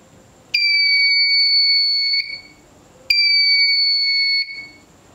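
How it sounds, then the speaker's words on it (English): A KY012 active buzzer powered from an Arduino 5 volt supply gives two loud, steady high-pitched tones, each lasting about a second and a half with a short gap between them, against faint background hiss. "It generating sound, so it is active buzzer."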